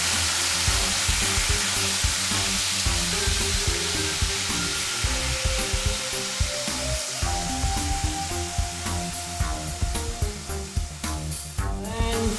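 Spare ribs sizzling loudly in a pan as fermented soybean paste is added, a dense continuous hiss and crackle with scattered stirring knocks throughout, no talking.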